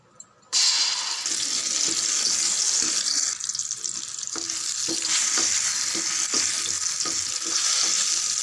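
A ground spice paste with curry leaves drops into hot oil in a pan and sizzles loudly and steadily at close range. Stirring scrapes and clinks sound through the frying.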